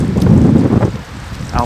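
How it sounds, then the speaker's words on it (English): Strong wind buffeting the microphone with a loud low rumble that eases off, and a voice speaking faintly beneath the gusts, in the French Alps mountains. "it's so windy"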